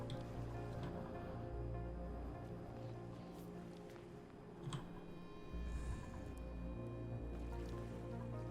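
Polluted water drops into a tile in the Oxygen Not Included video game, a soft squishy dripping and trickling set within a steady, dense bed of in-game ambience and music.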